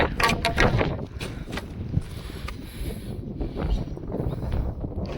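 Cool wind gusting across an open hilltop at Abhapara hill station near Ghumli, a steady roaring buffet on the microphone with louder swells, no talk.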